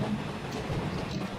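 Cartoon locomotive running along rails, a steady low rumble with faint rhythmic rolling through the short stretch, moderately loud with no talk.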